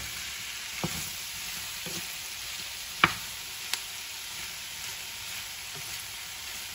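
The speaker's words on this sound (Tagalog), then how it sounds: "lutuin na natin yung kamatis bago natin ilagay yung gulay" Tomatoes sizzle steadily in a pan while being sautéed for pork with chayote, a constant close frying hiss broken by a few sharp clinks of a utensil stirring.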